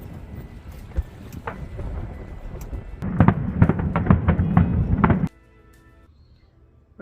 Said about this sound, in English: and of course, fireworks for the 4th.